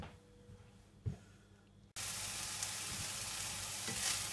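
Mince browning in a frying pan starts as a quiet sizzle with a knock, then jumps abruptly to a loud, dense, continuous hiss of frying up close.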